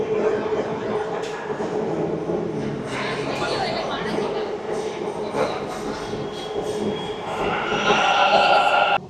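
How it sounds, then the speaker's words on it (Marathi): A metro train pulls into a Bengaluru station, a rumbling rush of carriages and wheels beneath echoing platform noise that swells louder toward the end, with voices faintly mixed in. "सो तर आपली मेट्रो आलेली आहे"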